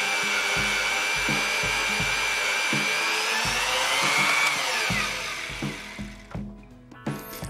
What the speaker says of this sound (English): The freshly sharpened drill performs really well. It creates chips and drills super fast.